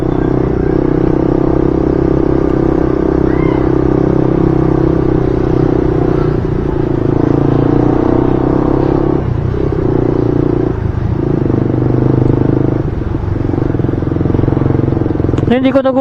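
Motorcycle with an aftermarket exhaust pipe and custom elbow idling and revving, a loud continuous deep rumble with a few throttle dips, as someone talks over it throughout.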